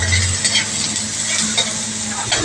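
Onion, garlic and chili sautéing in a pan for chicken sisig, a loud, continuous close sizzle with occasional light stirring scrapes and a low hum underneath.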